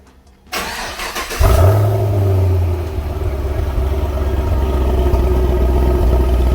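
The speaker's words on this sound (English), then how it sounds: "I'm gonna give y'all a cold start." A Chevy SS cold start: a short starter crank, then the engine catches with a loud rising flare and settles into a rough, steady idle close by.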